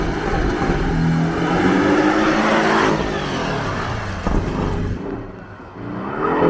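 A Nissan GT-R accelerates hard through an autocross course, engine rising and falling in loud surges as it shifts and turns, with tire and wind noise mixed in.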